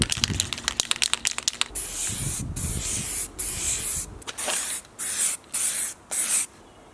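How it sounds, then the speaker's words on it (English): Several hissing bursts of black aerosol spray paint applied as a light coat, starting with quick short puffs and then longer sprays broken by brief pauses, close and loud. "I'm going to give it a light coat, a light coat with some black spray paint"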